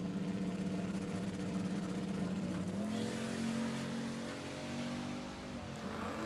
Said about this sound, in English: Here comes the shockingly quick Chrysler 300C that ran almost into the nines last time